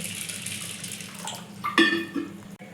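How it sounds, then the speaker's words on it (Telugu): Chana dal is rinsed and swished in water in a kitchen, close up. Watery splashing is briefly louder near the end, with no voices. "ఇందులో వాటర్ వేసుకొని దీన్ని శుభ్రం చేసుకోవాలండి"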